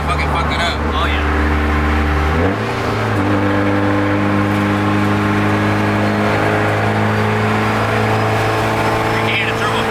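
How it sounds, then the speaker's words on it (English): A modified Mitsubishi Evo race car, heard from the passenger seat, surges forward as the revs climb and the turbo spools with a rising whine over a loud, steady engine drone, while people talk inside. "You can hear the turbo."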